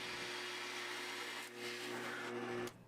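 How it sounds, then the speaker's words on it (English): A power drill bores a 1-inch hole through a wooden step stool frame, a steady whirring motor hum that dips briefly midway and then cuts off near the end. "The last step with the stool frame was to drill out a 1-inch hole"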